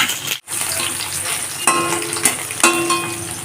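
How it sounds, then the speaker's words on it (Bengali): Bata fish frying in hot oil in a pan, a steady close sizzle broken by a brief dip and then sharp clinks and scrapes as the pieces are flipped. "মাছগুলোর একটা দিক ভাজা হয়ে গেছে এখন মাছগুলোকে উল্টে দেব"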